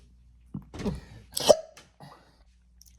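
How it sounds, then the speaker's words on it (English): A single hiccup from a person indoors, a sharp brief catch in the throat amid small breathy noises and rustling, fairly close and loud, with no talking. "I got the hiccups."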